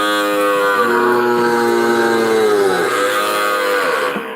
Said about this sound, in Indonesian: ini sapi yang baru datang tadi malam ini sejumlah 37 ekor